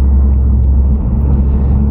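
A 2011 Mitsubishi Evo X FQ300 SST with four-wheel drive is driving along, heard as a steady, deep engine and road rumble from inside the cabin. The drone holds level for a brief moment with no voices.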